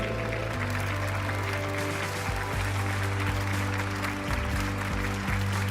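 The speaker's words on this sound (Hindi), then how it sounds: "सभी लोग जोरदार तालियों से स्वागत कीजिए हमारे सच्चे हीरो का।" Sustained applause from an audience welcoming a hero, dense and steady at fairly close range, with a constant background hum.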